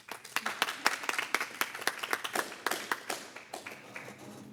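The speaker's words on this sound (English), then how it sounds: "And we clap." A small group claps for a community First Friday speaker, distinct individual claps in an uneven, fairly quiet patter that thins out toward the end.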